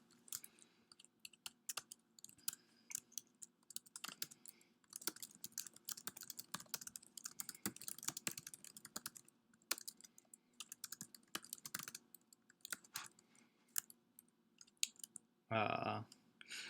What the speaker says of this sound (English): I guess I should read you guys what I'm typing because it's a little bit long.